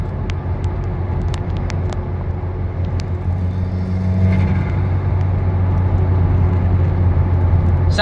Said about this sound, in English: Sounds pretty good with the catless downpipe and the stock mufflers and the Buma bypass valve.